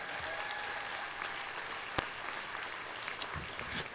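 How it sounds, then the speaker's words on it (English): Audience applause at a Rick Santorum political rally in the Main Street Music Hall, Lake of the Ozarks, a steady wash of clapping from a crowd, with a couple of sharper claps and thumps punctuating it. "Give yourself a round of applause for being here today."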